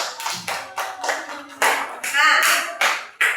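A classroom of students claps for a classmate, a burst of rhythmic hand claps in uneven groups, close and fairly loud, with some voices mixed in.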